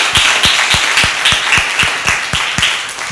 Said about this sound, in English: So let's give a clap to each of us.